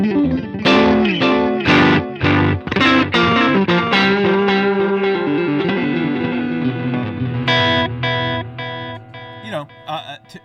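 Electric guitar with reverb and delay washing over the notes, strummed chords and single lines ringing out loud with echoing tails.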